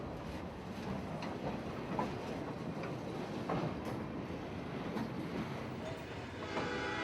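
Kaolin train tank cars rolling past in Augusta, a steady continuous rumble and rattle of rail cars close by, filling the whole stretch without pause.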